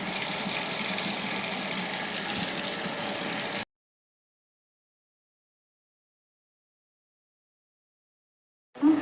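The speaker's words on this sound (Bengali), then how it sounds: "এদিকে পুজোর বাসন ধোবো তো চলো" Water from a tap running steadily while puja utensils are washed, a continuous gushing splash for a few seconds that then cuts to silence, followed by a brief knock at the end.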